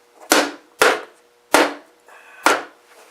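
A mallet strikes bolts on a Givi Easylock rack holding Harbor Freight Apache cases on a Yamaha FJ-09 motorcycle, four sharp, close, solid whacks spaced about half a second to a second apart.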